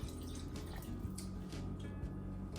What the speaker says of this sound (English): Grab one of these cans, fill it up with water